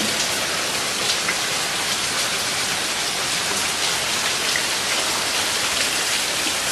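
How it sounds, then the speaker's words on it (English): A steady downpour drums hard around a house porch, a thick unbroken wash of falling water close and loud throughout, with no talking. "Raining pretty hard."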